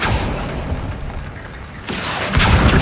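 A Confringo spell bursts in Hogwarts Legacy, a dense booming blast with broad rumbling noise that swells louder toward the end, no voices over it.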